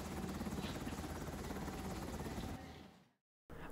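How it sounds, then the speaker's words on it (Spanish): Colombian Air Force Ángel helicopter engines running with a dense, steady roar and whine, heard faintly before fading out abruptly into a short silence. "los pilotos de la FAC encienden los motores del helicóptero Ángel para ir a buscar a más damnificados"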